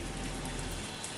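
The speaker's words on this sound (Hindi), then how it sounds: "पर अचानक से बारिश होने लगी" Steady, dense rain pouring down on an abandoned roofless ruin, a continuous wash of patter with no voices, heavy and close throughout.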